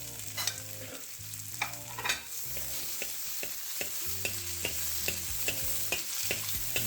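Chopped onions stir-fry in a hot pan alongside mixed vegetables, a steady sizzle broken by repeated scraping and clacking strokes of a utensil against the pan, close and fairly loud.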